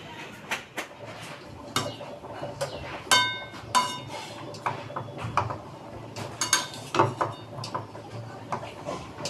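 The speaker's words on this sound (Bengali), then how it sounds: "বাকি সবজিগুলো এবার খিচুড়ির মধ্যে দিয়ে দিচ্ছি" Mixed vegetables tipped into a pot of khichuri made with several kinds of dal, giving a scatter of metallic clinks and clatters of spoon and pot against a low background, with faint voice.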